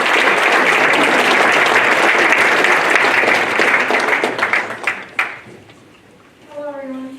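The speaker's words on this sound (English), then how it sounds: "let's go ahead and give them a round of applause." Rotary banquet audience applauding honored high school students: thick, loud clapping fills the room for about five seconds, thins into scattered claps and fades out, then a voice begins speaking.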